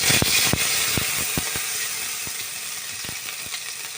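Ground spice paste fries in hot oil in a pan, a steady close sizzle broken by sharp irregular crackles and spatters, loudest at the start and easing slightly toward the end.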